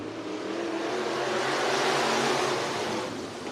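Race cars circling a dirt speedway at Cottage Grove, Oregon, during a heat race, a dense, continuous engine roar from a pack of cars at medium distance that swells and then fades slightly.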